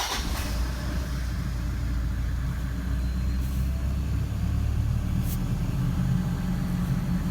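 A high-mileage, 11-year-old Toyota Land Cruiser with about 349,000 km idles with a steady, low, close rumble that holds even throughout, with no distinct start-up heard.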